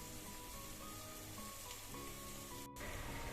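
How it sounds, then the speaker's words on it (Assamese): Ginger, garlic and green chilli paste frying with onions in a pan: a continuous dense sizzle that stays level throughout, with faint tonal sounds in the background and a brief dropout near the end. "এয়া মই আদা নহৰুখিনি দি ভালদৰে এইখিনিও ভাজি ল'লোঁ"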